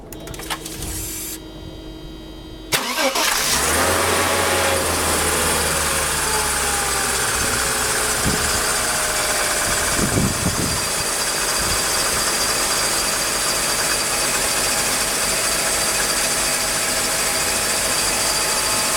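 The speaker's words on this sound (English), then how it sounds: "the car started right up. Runs pretty smooth." A Mercedes M104 engine that has sat for a day cranks after a short spell of quieter sound, catches suddenly, then settles into a smooth, steady idle, loud and close, with no talk.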